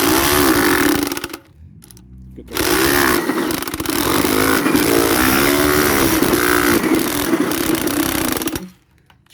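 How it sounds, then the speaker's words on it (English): A drill bores a hole in the top of a plastic bucket being made into a bee syrup feeder, a loud buzzing whine that runs in long stretches with a brief pause and stops near the end, with a few spoken words mixed in. "first thing we're going to do, drill a hole in the top of the"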